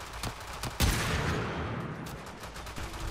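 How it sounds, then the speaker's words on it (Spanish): A single heavy gunshot in the game Warframe releases a burst of stored damage, sharp and loud, then a broad noisy tail fades out, with a few lighter impacts around it. "el siguiente disparo que hagamos va a liberar todo el daño que hemos acumulado en un único disparo"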